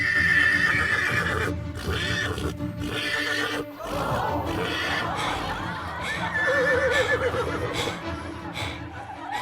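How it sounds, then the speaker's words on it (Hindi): A wild horse neighs in a loud, close whinny over clattering movement and rumbling background noise, with voices and a second shrill call later. "अब देखो कि मैं इस जंगली घोड़े को कैसे काबू में करता हूं"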